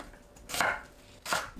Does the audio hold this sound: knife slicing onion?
yes